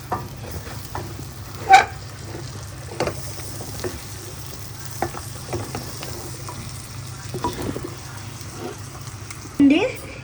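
A spoon stirs chopped coriander into curry in a pan, giving soft scraping strokes over a low sizzle, with a couple of louder knocks against the pan.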